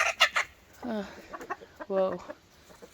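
A rooster crows twice with rising, harmonic calls, surrounded by clucking and a brief spoken exclamation.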